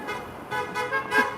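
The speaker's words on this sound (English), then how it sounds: "It's a honking party, baby." Car horns honking on a street in Clearwater, Florida, several tooting blasts in quick succession over traffic noise, moderately close.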